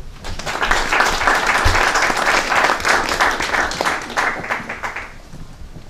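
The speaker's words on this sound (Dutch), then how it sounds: "een applaus is jouw deel" An audience at the unveiling of a bronze memorial plaque applauds, a full burst of clapping that holds for about five seconds and then fades out.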